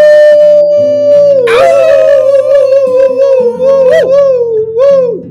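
A person's voice imitates a long, loud, wavering wolf-like howl that rises and dips, sustained for several seconds over steady backing music.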